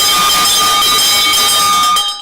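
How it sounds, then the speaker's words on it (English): A bell rung this morning to honour an Arsenal win rings continuously, bright and metallic, sustaining at a steady loudness before tapering off at the end, with no talking. "Oh, they ring the bell for honor this morning."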